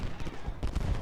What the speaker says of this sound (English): But Paul's turned himself into a position where I can shoot him with my artillery